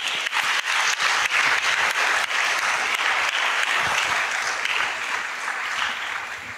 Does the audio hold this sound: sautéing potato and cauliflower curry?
no